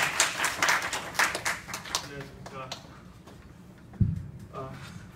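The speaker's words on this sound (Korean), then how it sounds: "박수로 부탁드리겠습니다" Audience applause in a training room welcoming a teacher at a financial-education session: brisk clapping from a modest group for about two seconds, then tapering to scattered claps as a voice begins speaking.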